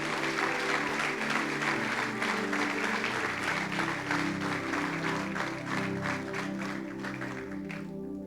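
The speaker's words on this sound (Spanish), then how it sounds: "Yo creo que eso se merece un aplauso" Sustained applause from a church congregation during a sermon, a thick continuous wash of hand claps over a low sustained musical tone, fading slightly near the end.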